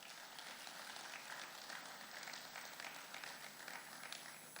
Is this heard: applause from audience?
yes